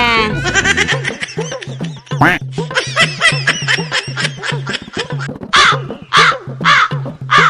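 A crow caws over and over in a rapid string of harsh, loud calls, close by and nearly continuous, with only short gaps between the cries.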